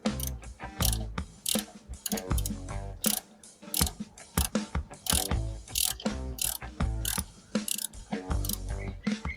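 A ratchet fitted with an extension loosens parts on a Z200 motorcycle, giving rapid bursts of loud, close clicking that start, stop and repeat in quick runs of varying length.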